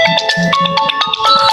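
A phone alarm rings loudly and close by, a steady repeating electronic melody of bright tones filling the short moment with no talk over it.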